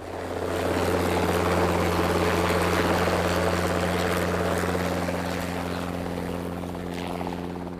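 Sarang team helicopters of the Indian Air Force fly in an air show over Jaipur, making a continuous, loud rotor and engine drone with a steady low hum that swells and then slowly fades.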